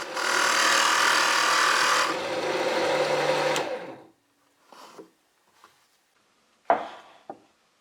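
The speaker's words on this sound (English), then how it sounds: "Then I use the Forstner bit to make a mark on one face of the cube." A drill press fitted with a Forstner bit whirs steadily into a wooden cube for about four seconds, then spins down, followed by a few short knocks and clatters as the wood is handled.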